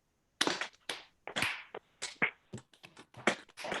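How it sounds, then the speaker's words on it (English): People keep a rhythm by slapping their laps and clapping their hands, sharp bursts of slaps and claps falling in loose, uneven groups that are not quite in sync, with no talking. "take your hands like this, and then hit your lap 2 times. And then clap your hands 1 time"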